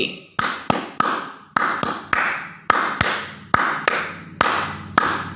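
One person near the mic demonstrates the Tepuk HW clapping pattern at a Hizbul Wathan scout practice at SMA Muhammadiyah 1 Kota Blitar: sharp, loud claps in quick rhythmic groups, separated by brief pauses.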